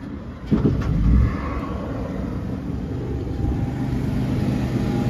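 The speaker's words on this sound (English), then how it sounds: "Nice, quiet Cummins Onan generator." A Cummins Onan generator built into a 2008 Chevrolet Express utility box van runs steadily with a low, even engine drone and hum, a few brief knocks near the start, no talking.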